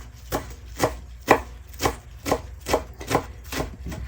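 A knife slices through rolled-up Swiss chard leaves on a board, about nine crisp, evenly spaced chops close by with no talking.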